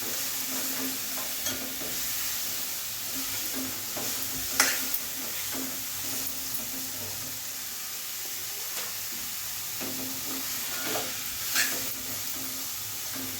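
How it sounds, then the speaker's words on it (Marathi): Bitter gourd sautés with softened tomatoes in a pan, a continuous gentle sizzle under repeated spatula stirs and scrapes, with a couple of brighter clinks along the way. "ह्याच्यामध्ये आपण कारलं टाकून घ्या आणि दोन मिनिटासाठी ह्यांना परतून घ्यायचं"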